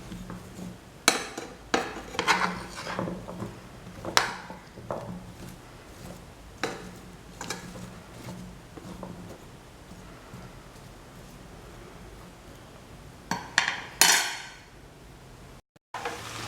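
Vegetables for aviyal being stirred with salt and turmeric powder in a pan, a series of scraping, clinking spoon-on-metal strokes at an uneven rhythm, close and moderately loud with quiet gaps between.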